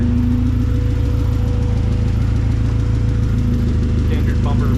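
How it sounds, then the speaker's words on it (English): A car engine runs steadily and loudly on a test drive around the block, with a low droning hum, a faint rattle from the bumper and a voice speaking over it. "Standard bumper rattles."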